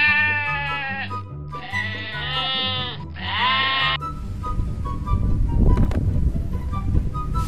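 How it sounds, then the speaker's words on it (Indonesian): Sheep bleat in a series of long, wavering calls, one after another and close by, then give way to gusty wind and rustling noise over the last few seconds. "Yang putih-putih ada domba"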